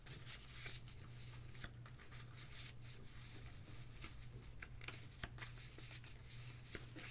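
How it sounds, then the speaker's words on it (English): A deck of cards being shuffled, a soft continuous riffling and rubbing with small clicks, quiet and close over a low background hum. "Give this a quick little shuffle."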